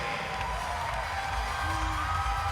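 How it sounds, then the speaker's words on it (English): A crowd at a Georgia at Kentucky college gymnastics meet cheers and whoops continuously at moderate volume, a dense wash of voices with a brief louder swell partway through. "The crowd's calling for it."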